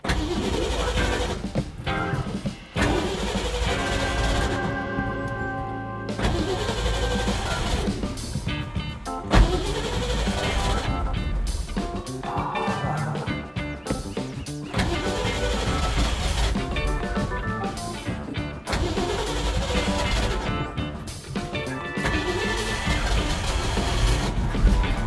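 An old car's engine is cranked with the throttle squeezed, then runs rough and loud at close range in a long continuous drone that rises and falls with revving.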